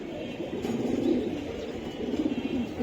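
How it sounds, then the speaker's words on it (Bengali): Pigeons coo softly at close range, low rolling calls repeating in a couple of bursts over quiet background noise. "তারেক ভাইয়ের এই যে দেন অনেক সুন্দর একটা কবুতর"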